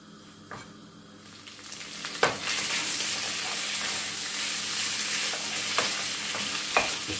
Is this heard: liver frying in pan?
yes